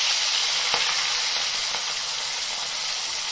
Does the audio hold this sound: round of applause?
no